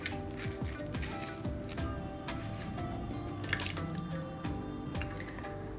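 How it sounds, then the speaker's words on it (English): Sour orange juice poured into a pot of Haitian legume, faint trickling and dripping liquid with small splashes over a low background hum. "Now, last, we're gonna take a little orange juice,"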